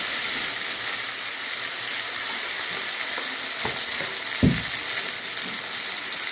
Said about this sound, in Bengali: মশলা দিয়ে কন্টিনিউ এরকম ভাজতে থাকতে হবে